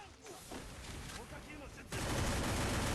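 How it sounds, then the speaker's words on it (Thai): Gunfire from the Free Fire video game as a player shoots at a tree, with a louder, dense burst of shots taking over in the final second after quieter game noise and faint speech. "ต้องยิงต้นไม้ทิ้งก่อน"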